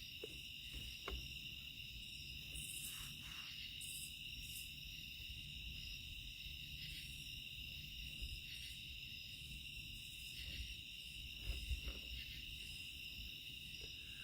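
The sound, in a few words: crickets chirping at night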